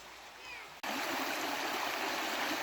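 A river in woodland runs with a steady, close rushing wash of water that starts suddenly after a quieter opening moment and continues evenly to the end.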